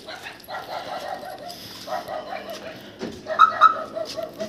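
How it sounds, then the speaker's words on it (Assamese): A dog gives a few short barks and whimpers at close range during a road trip stop from Guwahati to Tawang, with bird calls and a murmuring voice around it. "কুকুৰ আহিছা"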